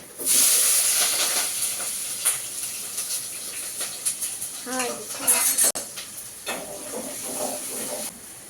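Cumin, mustard seeds, a little urad dal and onions sizzling in hot oil for a bottle gourd curry: a steady bright hiss throughout with scattered pops and crackles, while someone talks over it.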